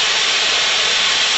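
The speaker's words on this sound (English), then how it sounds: "You sweat underneath the fitting until the solder starts to boil" A plumbing torch heats a copper pipe fitting until the solder boils, producing a loud, steady, close roaring hiss of flame that stays constant throughout with no voices.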